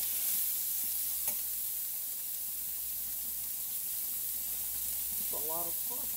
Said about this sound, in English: A lot of sausage there too. Need to stir.